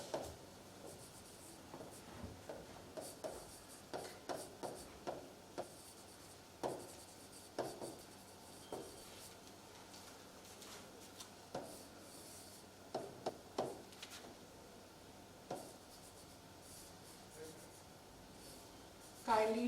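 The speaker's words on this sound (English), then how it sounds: "Kindly draw the circuit along with me." Pen scratching out a circuit diagram on paper, quiet, close strokes and taps in short irregular bursts over a low steady background hum.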